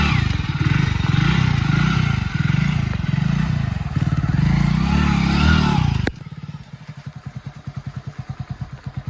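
A motorcycle engine rumbles loudly and close by, then settles into a steady, pulsing idle with rhythmic low thumps.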